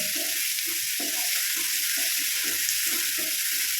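Onion and tomato softening in a pan for a bitter gourd curd curry give a steady, fairly quiet sizzle with soft stirring scrapes now and then, and no voices.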